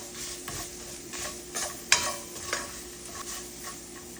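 A lemon rice base is fried and stirred in a pan, giving a soft, steady sizzle with repeated spoon scrapes and one sharp clink, close and fairly quiet.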